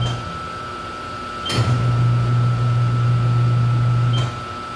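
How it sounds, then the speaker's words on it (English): The motor of a Taylor Crown Series soft-serve ice cream machine kicks on in wash mode with a click, then settles into a steady, loud low hum over a constant electrical whine before clicking off about three seconds later. "So if I hit wash, you see your motor kick on"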